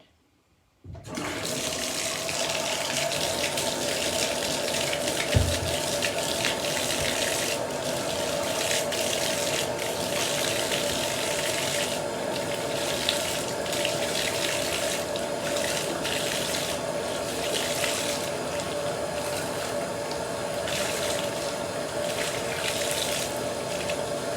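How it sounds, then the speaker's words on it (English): A water tap is turned on and runs steadily for hair washing, a continuous close rush of flowing water after a brief quiet start, with a single faint bump early on. "I'm going to go ahead and turn on the water"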